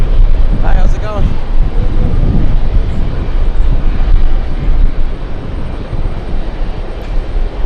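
JetBlue airplane at JFK airport, heard as a loud, continuous engine roar and rumble from fairly close, with brief voices at the start.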